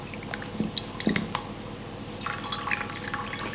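Irregular drips and splashes of water falling off cooked lasagne pasta into a pan or sink, close by, with a soft trickle toward the end.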